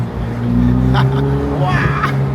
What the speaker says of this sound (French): je suis dans une Ferrari. Le moteur fait trop de bruit.